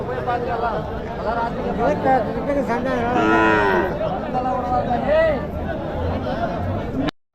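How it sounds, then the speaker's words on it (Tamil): Cattle low loudly and repeatedly at the Uthangarai cattle market, with a long moo standing out amid steady crowd chatter and market bustle close by. "இங்கே கண்ணு மாடு கொண்டு வந்திருக்காங்க பாருங்க நல்லா அருமையான மாடு நல்ல பெரிய மாடுங்க"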